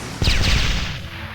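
A short, loud burst of explosive impacts from an airstrike attack in the Blox Fruits video game, a sharp onset followed by rumbling crackle that decays over about a second.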